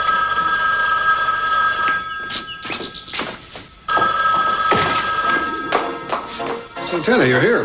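A telephone bell rings loudly in bursts inside a home, its repeated trills broken by short pauses, with thuds and footsteps moving around between rings.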